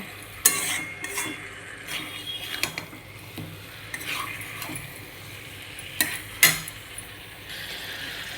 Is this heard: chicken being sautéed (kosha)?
yes